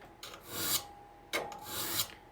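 A hand file sharpens the teeth of a crosscut saw, giving two long, close rasping strokes separated by a short pause, with no talking.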